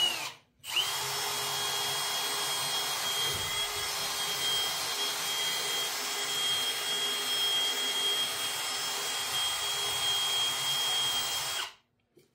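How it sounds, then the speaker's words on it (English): An electric drill fitted with a soft wire brush runs steadily against a Stanley boys axe head during a restoration, giving a continuous close whirring grind for about eleven seconds that starts and stops abruptly. "this softer wire brush for the end of my drill"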